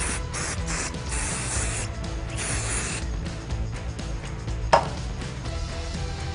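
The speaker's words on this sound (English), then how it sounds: "I'm gonna finish it off with some hairspray" Hairspray hisses onto styled hair in a steady, close aerosol spray that runs continuously through the whole stretch, with a faint click partway through.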